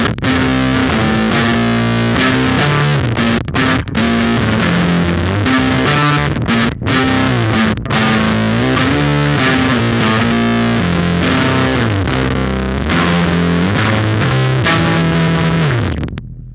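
A bass guitar runs through a Beetronics Whoctahell low octave pedal, playing a steady, dense, distorted riff with deep sub-octave tones under the fundamental, with brief gaps between phrases and no talk.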